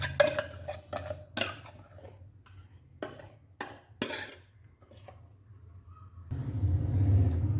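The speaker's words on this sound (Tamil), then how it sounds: "அரைச்ச மிக்சரை பவுலில் மாற்றிக்கலாம்" Ground millet batter scraped into a bowl, heard as a series of sharp metallic clinks and knocks from a spoon against a vessel, followed by a softer low rumble of stirring.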